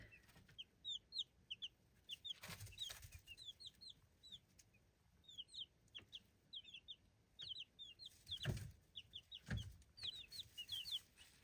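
Buff chicks in a gardener's flock chirp and cluck in quick repeated bursts, with a few louder rustles and flapping thumps nearby, no talking.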